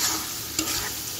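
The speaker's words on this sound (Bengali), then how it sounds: "টমেটো দিয়ে দিলাম, এখন টমেটোগুলো ভালো করে কষাই নিব।" A ginger, garlic, turmeric and chili spice paste with tomatoes sautés in a pan for a Catla fish curry, giving a steady, close sizzle with a brief stirring scrape partway through.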